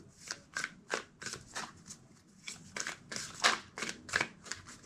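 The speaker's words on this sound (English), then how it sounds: "Two more shuffles." Close, crisp riffling of a deck of cards, shuffled in a quick rhythmic series of short bursts with no talking.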